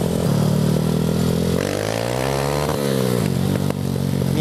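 Honda Titan 190cc motorcycle revving loudly and close, the engine climbing fast to the rev limiter, dropping back, then rising again with a rough buzzing tone, and no talk.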